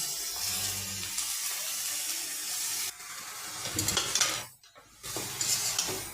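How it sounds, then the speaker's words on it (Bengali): Turmeric, salt, chillies and green chillies are sautéed in a pan for a fish-head vegetable curry, giving a steady sizzle with scraping stirs. The sound drops briefly, then the frying hiss resumes. "ভালো করে কষিয়ে নিলাম।"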